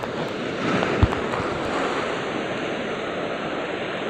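Heavy ocean surf rolling in, a steady broad roar of breaking waves close by with gusty wind noise over the microphone and a brief knock near the start.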